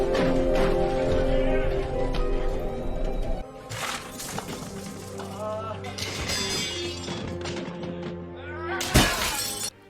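Mirrors shattering in an animated Snow White film: dense crashing and breaking glass over a loud orchestral score, with a sharp, bright smash near the end.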